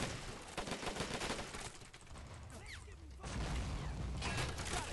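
Gunfire in the Men of War game on a Polish bocage map, rapid rattling bursts and mechanical clatter, fairly faint, with brief quieter gaps and someone talking faintly at times.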